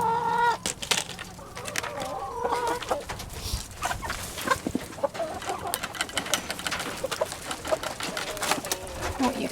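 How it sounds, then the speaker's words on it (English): Several Delaware chickens cluck and squawk close by in irregular bursts, with scattered scratching and rustling noises and a busy farmyard feel. "These are our Delaware chickens."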